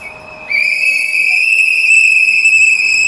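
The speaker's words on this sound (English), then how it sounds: "Oh God, these whistles are loud" A loud, sustained shrill tone of whistles blown by protesters at a hotel, with bright overtones, starts after a brief quiet moment and holds steadily to the end.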